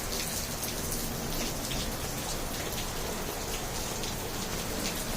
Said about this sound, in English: It's raining, guys.